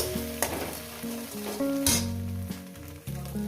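Egg pieces fry in a pan with a continuous close sizzle and a few sharp crackles, while music plays underneath.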